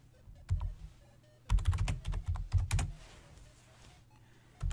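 Quick keystrokes on a computer keyboard come in a short burst, then a denser run of clicks, near and distinct, with quiet between the bursts and no talk.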